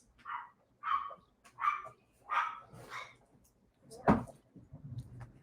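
Dogs indoors at home give a run of about six sharp, close barks in quick succession, the last one louder and deeper, followed by faint shuffling.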